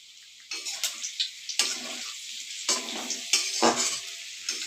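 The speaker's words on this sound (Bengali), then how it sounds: "আর আলুটা তো দিকে ভাজা হচ্ছে।" Potatoes sizzle in mustard oil with a dried red chilli in a home kitchen, producing bursts of frying crackle and stirring scrapes that come and go close by, with quieter gaps between.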